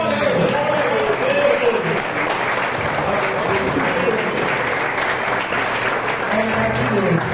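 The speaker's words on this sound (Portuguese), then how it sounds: "Dê a sua melhor salva de palmas." Sustained applause from a large church congregation, steady and dense from start to finish, with a voice speaking over the clapping.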